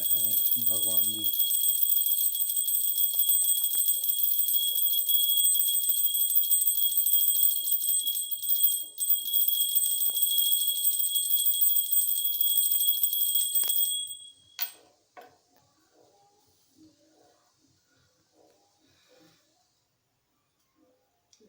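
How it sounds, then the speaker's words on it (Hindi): A small handheld bell rung during Hindu aarti worship at a home shrine, its bright metallic ringing continuous and steady for about fourteen seconds before stopping abruptly, followed by near silence with a few faint sounds. "फिर उसके बाद घंटी बजाए जा रहे हैं भगवान जी।"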